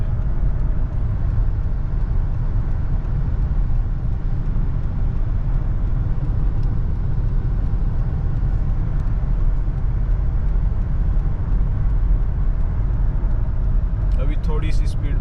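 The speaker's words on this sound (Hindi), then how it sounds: "अब देखते हैं कि ये कहाँ तक जाती है हमारी गाड़ी।" A car driving down a sloping desert road at Wadi e Jinn near Madina, Saudi Arabia, with a steady, loud engine and road rumble that holds throughout.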